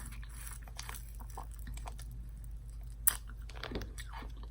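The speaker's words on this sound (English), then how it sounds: "biting ice doesn't hurt my teeth" Frozen Otter Pops ice pops being bitten and chewed up close, with soft crunches and wet chewing, a sharp bite snap near the middle, all at low volume over a faint steady hum.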